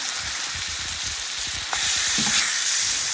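Garlic hits a pan of translucent onions, a bright steady sizzle under light stirring scrapes, growing louder partway through as it fries, close and without talk.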